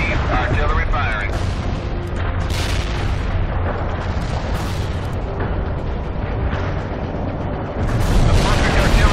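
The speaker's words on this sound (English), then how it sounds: "Artillery firing." Artillery barrage from World in Conflict: Soviet Assault, shells striking the target in a dense, continuous rolling roar of booms and blasts that builds heavier toward the end, with radio voices talking over it.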